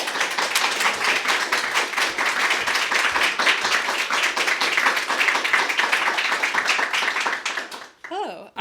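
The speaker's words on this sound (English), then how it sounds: "Everybody clap for Cayden Crouch." Audience applause for a performer at a reading event, dense steady clapping from a close crowd that fades out near the end as a voice begins.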